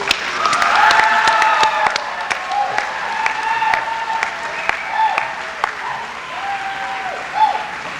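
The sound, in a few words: graduates' applause for school staff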